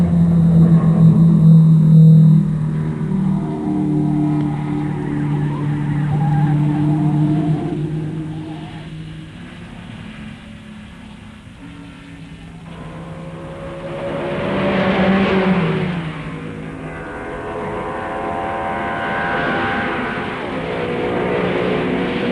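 1956 Formula One race cars at Silverstone roar past as a steady engine drone, swelling and fading as cars approach and recede, with revving harmonics rising near the middle and end; no talk.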